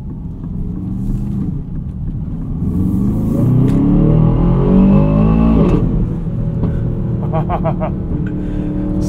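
The Aston Martin DBX 707 engine revs hard and climbs through quick gear shifts. The rising drone drops briefly at each change, and the strong, close rumble of acceleration fills the clip.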